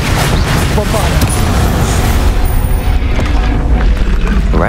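A Bombarda blasting spell explodes in the Hogwarts Legacy video game, a loud booming blast with rumbling low end that stays dense through a chaotic spell battle, with a shouted voice in the mix.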